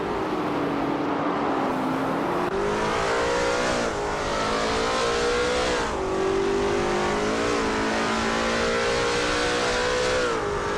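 Race car engines in a racing video game, including a 1968 Eagle Mark 5.5 and a 1968 Lola T190, with a loud close engine note that rises and falls repeatedly through gear changes and steady acceleration.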